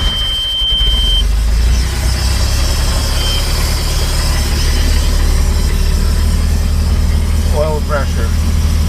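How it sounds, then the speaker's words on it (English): MerCruiser 3.0 marine engine running at a steady low idle after starting, a loud continuous low rumble filling the whole stretch, with a brief high squeal near the end. "We're starting the engine."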